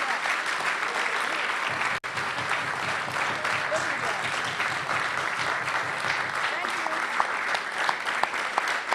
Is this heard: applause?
yes